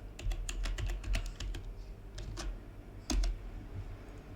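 Rapid bursts of keystrokes on a computer keyboard as a variable name is entered, clicking in short irregular clusters close by with brief pauses between words.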